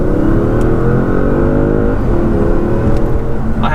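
A 2018 Audi S6 in dynamic mode accelerating hard, its engine note climbing steadily and loud from close by, with no break and no voices.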